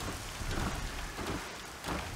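Steady heavy rain hisses across the ground with low rumbling thunder beneath, a dense continuous storm wash in Horizon Zero Dawn, no voices.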